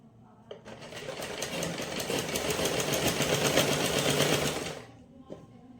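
Sewing machine stitching the fabric armhole of a sleeveless kids' frock, starting with a click, then a fast, steady, rhythmic whirring run for about four seconds before stopping, with a faint tap afterward.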